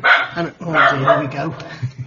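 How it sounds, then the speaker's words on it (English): A dog barks in the background while someone talks over it, the barks coming in short bursts and partly masked by his voice. "sorry about the dog barking"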